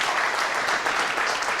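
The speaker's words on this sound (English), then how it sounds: "Can we get a round of applause for Arlene Robinson?" Steady, dense applause from an audience at a city State of the City address, a continuous wash of clapping that holds at an even level throughout with no voices standing out.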